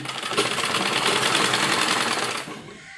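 A sewing machine runs steadily, stitching a lined embroidered sleeve seam, a fast continuous whir that holds for over two seconds and then stops, with no voices.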